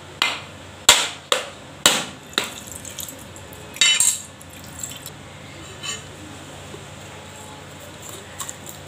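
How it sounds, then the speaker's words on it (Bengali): A coconut being cracked open in a home kitchen, heard as a run of five sharp, loud strikes in quick succession, then a heavier knock and a few fainter taps and scrapes as the pieces settle. "কাটা হয়ে গেল, এবার নারকেলটা ফাটিয়ে দিই।"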